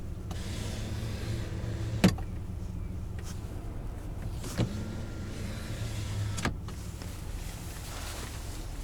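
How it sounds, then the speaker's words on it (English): Electric opening rear window of a 2019 Ram 1500 pickup runs with a steady low motor hum inside the cab, broken by a few sharp clicks and knocks, with no one speaking. "you also have the opening rear window."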